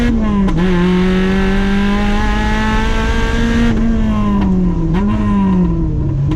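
A Mazda Miata swapped with a Ford Fusion 2.5-liter engine accelerates hard down a track straight, its loud buzzing engine note climbing steadily with a brief dip at a gear change, close and continuous.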